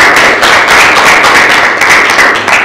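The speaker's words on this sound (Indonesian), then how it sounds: "Kasih tepuk tangan dulu untuk kelompok 3." A classroom of students claps together after a group presentation in a biology lesson, a loud, steady burst of many hands close by, with no talk over it.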